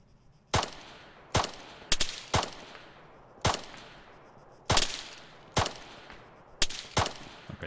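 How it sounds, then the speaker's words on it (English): Gunfire from another player in Arma III battle royale: about ten sharp, loud single shots spaced irregularly, each with a quick crack and short echoing tail, no talk. "there's someone else shooting now"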